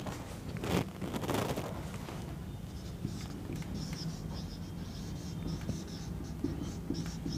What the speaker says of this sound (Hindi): एक मिनट दोबारा से लिख देता हूँ इसको साफ साफ से